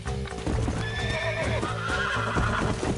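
A wild horse being tamed in the Red Dead Redemption video game neighs and whinnies over rapid clip-clopping hooves, loud and continuous throughout.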